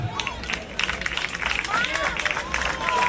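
Villagers in Haryana applauding at a gathering honouring a man with a shawl, a steady wash of clapping mixed with crowd murmur and chatter.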